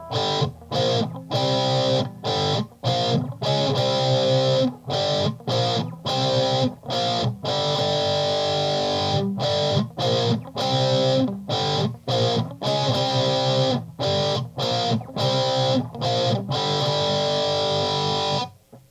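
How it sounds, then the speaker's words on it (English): Heavily distorted electric guitar plays chunky riffs with sharp rhythmic stops and restarts, loud and continuous, no voices. "let's turn on a little distortion and play it a little bit faster"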